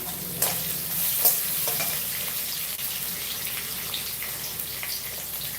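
Vegetables and rice are sautéed in a pan during a live home cooking session for tomato rice, giving a continuous soft sizzle with a few light stirring clicks, fairly close and even throughout.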